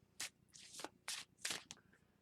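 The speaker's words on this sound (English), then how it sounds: "We're going to reshuffle." A deck of tarot cards is shuffled in several quick, faint riffling bursts, each a brief papery flutter separated by short pauses, in a quiet room.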